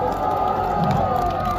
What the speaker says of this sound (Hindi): एक बार बिरादरम फैजी रहमान साहब और उनकी पूरी टीम के लिए पुरजोर तालियां बजा दें